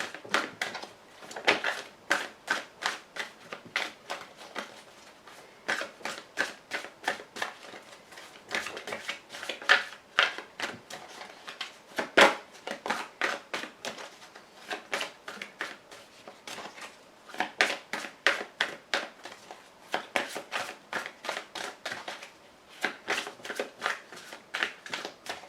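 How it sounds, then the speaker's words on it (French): Tarot cards cut and shuffled by hand at close range, a long run of quick riffling flicks and soft slaps in bursts with brief pauses between them, no speech. "Je coupe, allez, 5 cartes."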